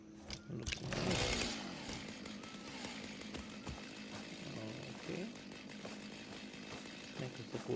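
A chainsaw in Satisfactory revving up loudly at first and then settling into a steady idling drone, with one brief spoken word near the start.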